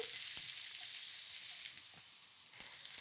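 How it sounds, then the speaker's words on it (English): Finely sliced onion frying in a hot, wide, thick-based pan gives a steady close hiss that eases slightly toward the end, with a few faint ticks and pops. "While this pan is still hot, we'll add our fine slices of onion."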